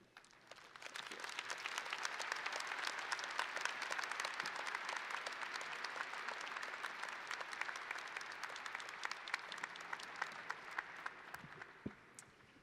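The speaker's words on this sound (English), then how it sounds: "How about another round of applause" Sustained applause from a large crowd at a Ball State University commencement ceremony, rising quickly and holding steady for several seconds before tapering off near the end.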